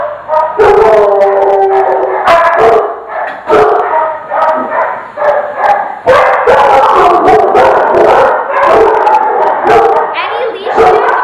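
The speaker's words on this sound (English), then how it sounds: "Over here we have all of the kennels where the dogs are kept. Now it gets a little bit noisy in here." Many dogs in shelter kennels bark and howl together in a loud, continuous chorus, with sharp overlapping barks punctuating drawn-out howls throughout.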